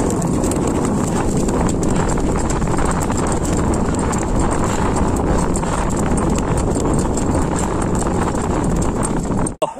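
A horse galloping hard on open ground, a rapid continuous drumming of hooves with heavy wind rush on the microphone, loud and close for nearly ten seconds before cutting off.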